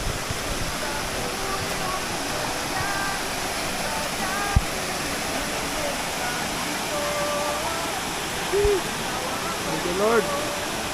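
Steady broadband rush of Tumalog Falls fills the scene, constant and fairly loud, with a few brief bird-like calls and a thump near the middle.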